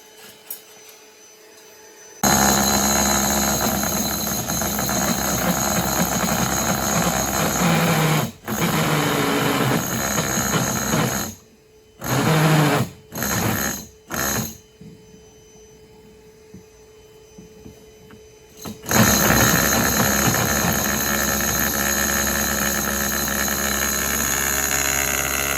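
A drill with a wood bit bores through an already drilled hole, its loud, steady motor whine running in long stretches broken by a few short stop-start bursts, then resuming at full strength.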